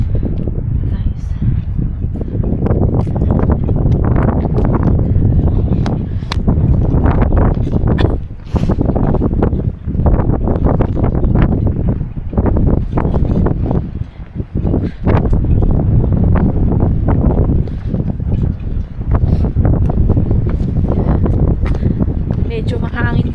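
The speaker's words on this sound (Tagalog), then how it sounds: "It's very windy." Strong wind buffets the microphone at the seaside at Peggy's Cove, Nova Scotia, a loud, continuous rushing roar with gusting surges throughout.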